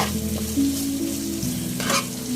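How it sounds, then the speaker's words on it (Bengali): Food fries in a pan with a continuous close sizzle and faint bubbling, steady and alone for a brief moment. "তো একটু আমি লাল লাল করে ভেজে নিব"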